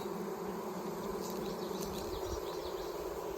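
Honeybees hum in a continuous, steady drone around an open hive during an inspection, close and even in loudness, with faint higher whines from individual bees passing near.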